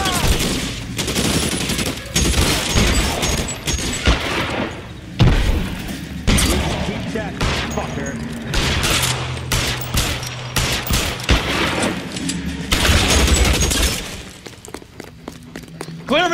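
Thompson submachine gun fire in the video game L.A. Noire, dense rapid automatic bursts with booms and shattering impacts, loud and almost continuous through a rooftop gunfight.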